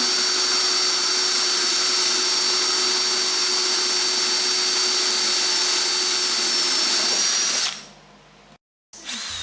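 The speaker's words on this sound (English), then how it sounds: "Use a 1-inch hole saw and cut the hole." A power drill with a 1-inch hole saw cuts a hole, giving a loud, steady high whine for several seconds that stops abruptly and falls silent.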